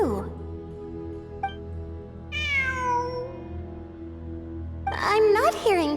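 A cat in the video game Genshin Impact meows twice, a drawn-out meow followed by a shorter, louder one, over a low, steady ambient hum with a brief voice at the start.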